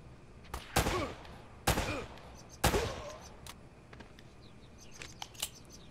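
Gunfire in the video game Uncharted: three sharp, loud shots spaced about a second apart, each with a ringing tail, followed by a few fainter clicks and pops.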